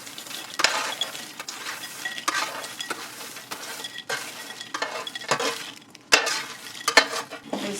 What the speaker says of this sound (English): I'm gonna go ahead and pop it into a cute little serving bowl